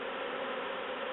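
Honey bees swarm at the entrance of a top bar hive, a steady dense buzzing hum with no breaks, close and even.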